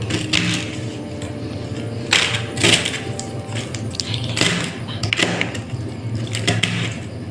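Changalamparanda (veld grape) stems being chopped into pieces, with irregular sharp knocks close by and a few louder cracking strikes among lighter taps.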